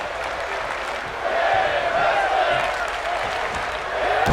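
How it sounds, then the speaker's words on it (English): An arena crowd in the WWE 2K23 wrestling video game chants and cheers in a sustained roar that swells midway, while a commentator-like voice talks over it. "The crowd chanting women's wrestling."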